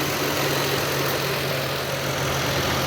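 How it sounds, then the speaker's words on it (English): The engine of a 1997 Lexus LX450 idles with its AC compressor running, making a steady, close drone with a low hum and a constant even whir that never changes, and no voices. "maybe we'll get lucky here in a second and the AC compressor will kick on"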